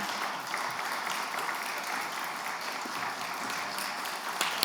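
A church congregation at a Sunday service claps for a retiring ordained deacon, a steady, mid-distance patter of many hands holding evenly throughout with no speech over it.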